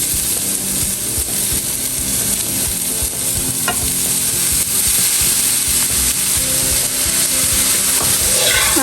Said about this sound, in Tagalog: Lalagay ko na po itong niyar-yar na papaya.